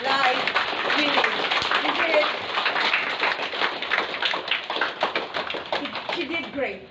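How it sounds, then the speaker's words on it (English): Mourners at an interment give a round of applause, a dense patter of many hands clapping at moderate loudness, steady and then thinning slightly toward the end, with voices mixed in. "Let us give Nanay a big round of applause for life winning."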